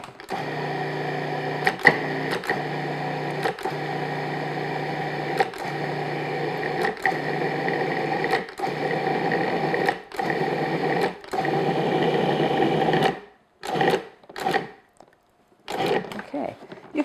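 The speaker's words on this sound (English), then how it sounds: "the sound of your food processor will change when it's coming together" Food processor mixing pastry dough for a strawberry tart, a steady close motor whir broken by short pulses, then stopping and restarting in brief bursts toward the end.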